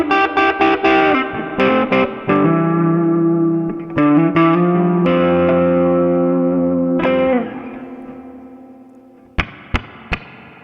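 Electric guitar on a humbucker pickup through a Dr Z Maz 18 Jr amp plugin with lush reverb, volume backed down: strummed chords and picked notes ringing with a long tail, ending in a few sharp isolated plucks.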